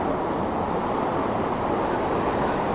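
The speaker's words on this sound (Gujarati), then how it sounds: "મિત્રો દરિયાનું પ્રમાણ વધી ગયું છે અને મોજા મોટા ને મોટા આવવા માંડ્યા." Sea waves wash on the shore near Somnath temple on a rough, rising sea, heard as a constant broad roar of surf, fairly loud and unbroken, with some wind noise on the microphone.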